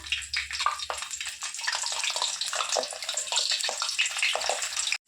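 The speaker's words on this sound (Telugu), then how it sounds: "ఎల్లిపాయలండి కొన్ని ఒక చిన్న కప్పు ఎల్లిపాయలు ఫ్రై చేసుకుందాము" A small cup of onions deep-fries in oil for a spicy chicken dish, making a continuous, close, busy sizzle and crackle that lasts about five seconds.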